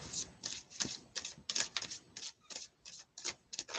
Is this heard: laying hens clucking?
no